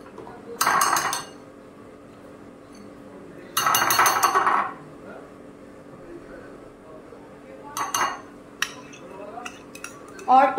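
Spoon clinking against a bowl while mixing mayonnaise, hot sauce, ketchup and chili garlic sauce, a few short bursts of clattering strokes separated by quiet pauses.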